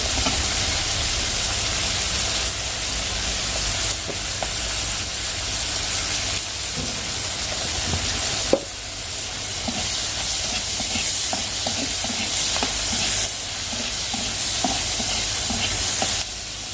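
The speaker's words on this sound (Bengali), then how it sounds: "এবার চিংড়ি মাছটা হয়ে গেছে ভাজা" Shrimp fry in a pan, turning red, with a constant loud sizzle and hiss running throughout, punctuated by occasional clicks and scrapes of stirring, no talking.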